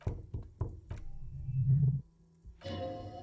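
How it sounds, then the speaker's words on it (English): A door is knocked in the video game Disco Elysium, giving three or four quick hollow knocks followed by a low resonant thud and then a bright hiss of running water. "Knock."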